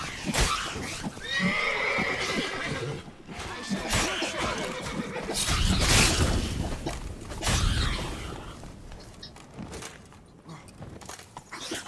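A horse in The Witcher 3: Wild Hunt video game neighs and whinnies loudly up close, with snorts, hoof thuds and rumbling game ambience swelling around the calls.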